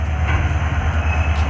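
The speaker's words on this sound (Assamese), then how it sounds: "শুনিছে নহয় ট্ৰেইনৰ মাত?" Train at Chaparmukh railway station, a loud steady rumbling roar of rolling wheels and carriages close by, continuous throughout with no talk.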